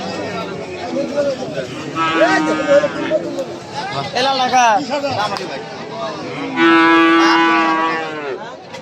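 Cattle, including a large local desi bull, moo loudly and repeatedly at a busy livestock market, long drawn-out calls rising over constant crowd chatter and nearby talking.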